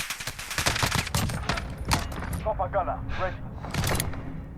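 Call of Duty Modern Warfare gameplay with an MK 20 SSR rifle tap-fired in quick bursts of sharp shots, loud and close, mixed with game noise and a few pauses between volleys.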